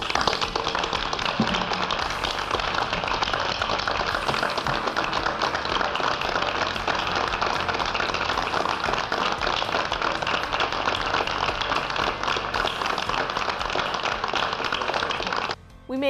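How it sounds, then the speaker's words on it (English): Sustained applause from a town meeting audience, dense steady clapping for about fifteen seconds at an even level, cutting off abruptly near the end. "I think you deserve a round of applause"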